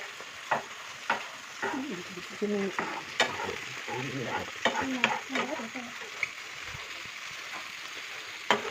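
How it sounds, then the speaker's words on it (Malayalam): Prawns fry and sizzle in a pan while a spoon stirs and scrapes them in uneven strokes and taps. A constant close hiss sits under the stirring, with no talk. "ഇത് നമ്മൾക്ക് ഫ്രൈ ആയിട്ട് ഇട്ടിട്ടുണ്ട്"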